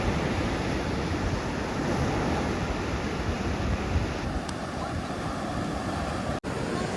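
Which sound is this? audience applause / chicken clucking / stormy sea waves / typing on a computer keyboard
stormy sea waves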